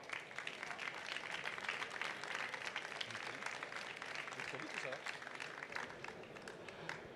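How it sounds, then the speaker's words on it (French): An audience at an award ceremony for cycling and walking projects claps steadily for a project, a dense, fairly distant spread of applause lasting throughout, with a faint voice or two underneath. "Et on peut une nouvelle fois l'applaudir pour ce beau projet."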